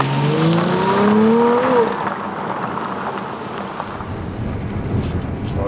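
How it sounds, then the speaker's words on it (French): A Dodge Charger's engine revs hard under launch control and climbs in pitch over about two seconds during full-throttle acceleration, then gives way to a steady roar mixed with wind noise. "Donc, appuyer sur frein et passer rapidement à plein régime."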